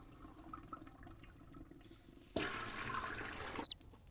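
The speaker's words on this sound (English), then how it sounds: "Flush." A toilet in the game Chaos on Deponia flushes suddenly after a quiet stretch, a rushing gush of water that keeps going for over a second, ending in a couple of small high clinks.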